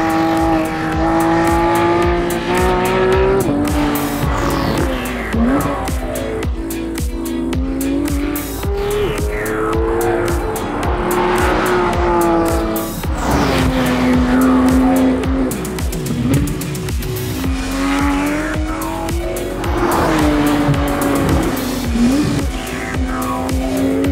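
A Porsche 911 GT3 drives hard, its loud engine revving continuously with rising and falling gear pulls and repeated tire squeal through corners, close and dominant throughout.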